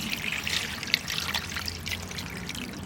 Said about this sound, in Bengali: শাক পাতা একটু ধুয়ে নেবো, একটু জল দিয়ে দিচ্ছি।